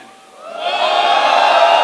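A large audience at a cinema and Silicon Valley panel breaks into cheering that swells after a quiet start and holds loud and steady to the end, a broad wash of voices and whoops.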